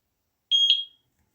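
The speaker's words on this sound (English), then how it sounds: "You can hear the beep." A single short electronic beep from a Eufy S340 wireless home security camera during setup, high-pitched and clear, sounding once against silence.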